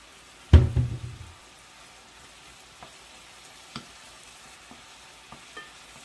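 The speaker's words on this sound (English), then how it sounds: "oil is nice and warm, so we'll put in our beef here. Nicely cut beef." Cut beef drops into warm oil in a pot for stew, starting with a sudden loud clatter and burst of sizzle that quickly fades, followed by a few faint knocks and light crackles.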